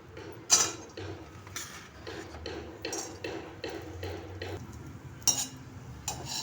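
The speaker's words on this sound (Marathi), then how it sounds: "काजू पण भाजून झाले मनुके टाकते मी आता" Cashews and raisins roasting in a pan are stirred with a metal spoon, giving irregular soft clinks and scrapes against the pan with a few sharper knocks, fairly quiet and close, with no talking.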